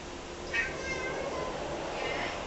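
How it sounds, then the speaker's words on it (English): A cat meows at a cat flap in a workshop, two drawn-out, mid-pitched calls about a second and a half apart, moderately near over a steady background hiss. "Cat is trying to get through the cat flap."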